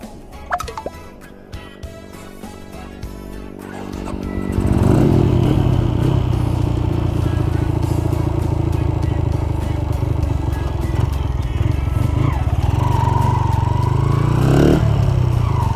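Honda Sonic motorcycle fitted with an API box engine runs loud and close, idling at first, then revving hard and pulling long through the gears with a rising, sustained engine roar.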